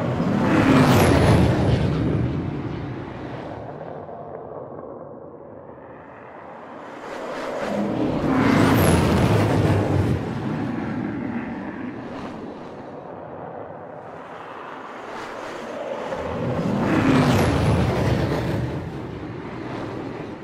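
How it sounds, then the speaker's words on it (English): Spaceships in Star Citizen sweeping past at a distance, three separate whooshing flybys that swell and fade roughly every eight seconds, each with a rumbling roar and thin high whine, with near silence between. "Here is an example of those more distant one-shot sounds playing, as we do not fly as close to the enemy ship."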